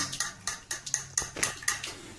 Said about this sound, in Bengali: এবার আমি এটাকে ভালো করে ফেটিয়ে নেব।